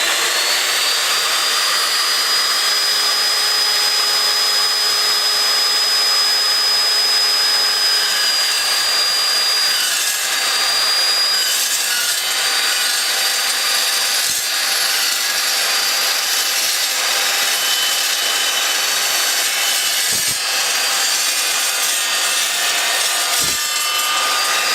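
An Evolution S355CPSL chop saw with a 14-inch blade cuts through 2x2 steel tube, giving a loud, continuous, high-pitched grinding whine that holds steady and close for the whole stretch, with no talking.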